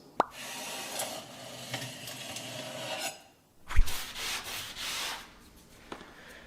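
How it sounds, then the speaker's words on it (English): Steady abrasive sanding scrapes against wooden frames in back-and-forth strokes, close up, broken by a brief pause and a sharp knock or tap. "In this step, things are going to get messy. Why? Because we're sanding."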